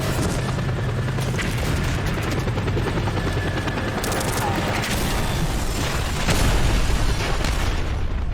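Helicopter in the video game Just Cause 2, a steady loud rotor drone running throughout, mixed with booms, explosions and bursts of gunfire, with talk over parts of it.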